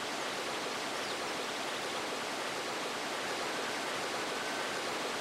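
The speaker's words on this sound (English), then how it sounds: "And then they open the gate to let the water in." Water rushes in through an opened gate in the PS2 game Dark Cloud, a steady, dense, broadband roar with no breaks for the whole stretch.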